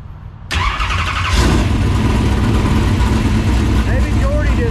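A dirt race car engine cranks and fires up, catching with a sudden loud roar and settling into a rough, rumbling idle heard close, with a voice speaking over it.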